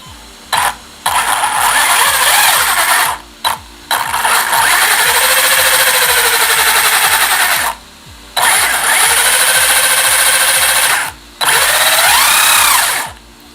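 A small electric motor in a budget RC car kit whirs in repeated loud bursts of a few seconds each, with a harsh grinding buzz from poorly meshed gears and a pitch that swoops as it speeds up and slows.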